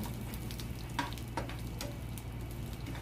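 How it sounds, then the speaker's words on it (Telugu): Chana dal and sesame seeds fry in hot oil for a tempering, a steady close sizzle with a few sharper crackles and pops scattered through it. "దాంట్లోకి కొంచెం శనగపప్పు నువ్వులు వేసుకొని ఇలా ఫ్రై చేసుకోవాలి"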